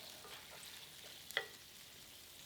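New Orleans-style BBQ shrimp sauce cooking down in a pan, a faint, steady low simmering hiss with one brief soft clink of a utensil, no voices.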